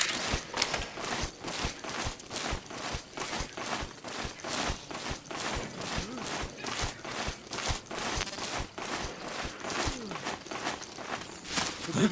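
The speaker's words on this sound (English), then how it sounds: "I just heard footsteps." Footsteps in Metal Gear Solid 4: Guns of the Patriots, a fast, steady run of sharp thuds repeating for about twelve seconds at even loudness, with no voices.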